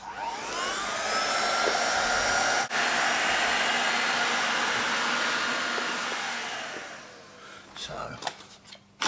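A hot air heat gun warms vinyl flooring for welding, a loud steady blowing roar that fades near the end and gives way to clicks and handling noise, with someone talking over it.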